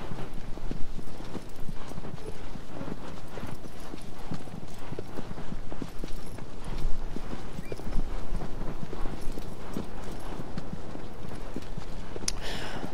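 Steady clip-clop of galloping horse hooves in the video game Shadow of the Colossus, loud and continuous with a driving rhythm, layered over rushing ambient noise and an occasional whinny.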